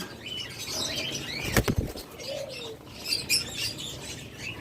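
A pair of albino lovebirds flutter and chirp in a cage, with one loud burst of flapping wings, scattered tweets and a brief coo-like note, all close by.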